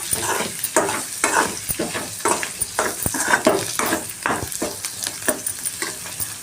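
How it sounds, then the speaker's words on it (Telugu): Onions and ginger fry in a pan with a constant close sizzle, broken by rhythmic scraping strokes as a spoon stirs them repeatedly against the metal. "ఇంకా కొద్దిగా ఆనియన్స్ ఇంకా కొద్దిగా ఫ్రై కావాలి బాగా"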